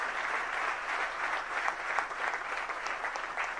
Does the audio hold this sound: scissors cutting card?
no